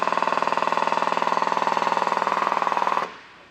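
A power tower hydraulic pump works steadily during a chain pull, giving a fast, even mechanical chugging pulse that runs for about three seconds and then cuts off, with no talking.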